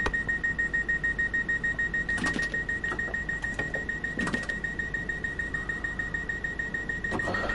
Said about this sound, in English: unfortunately the alarm will not stop until the train comes to a complete stop